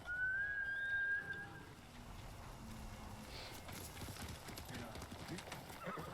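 Horse hooves clip-clop steadily through a video game world, mid-distance and moderately loud, joined near the start by a brief whistle-like whinny, with faint talk underneath.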